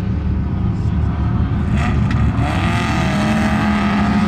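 Can-Am X3 and Polaris RZR side-by-sides racing at a camp event, loud continuous engine roar with rising revs and a passing whine, steady and close throughout.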